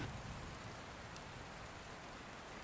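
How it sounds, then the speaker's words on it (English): Steady rain falling, a soft continuous hiss of drops at moderate distance, even and unbroken with no voices. "I'll also stop the rain in this case."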